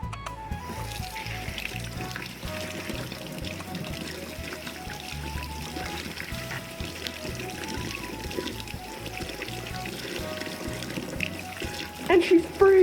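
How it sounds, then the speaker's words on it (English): Hot water pours and trickles steadily for several seconds over a frozen My Little Pony toy, under light background noise and faint talk, with a brief louder splash near the end. "Let's try a bit of hot water."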